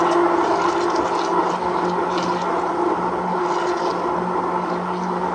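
A blender whirs steadily as it blends a milk cocktail, a loud, continuous motor drone with a sloshing liquid churn that holds an even pitch from start to finish, with no talking.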